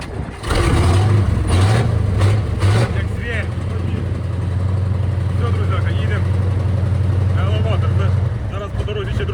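A large truck engine cranks and turns over, then settles into a loud, steady rumbling idle close by, with people talking over it in Ukrainian.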